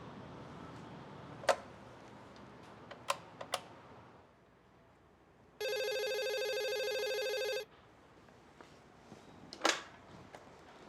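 A telephone rings once in a single steady electronic burst of about two seconds in a quiet room, with scattered faint clicks and taps before and after.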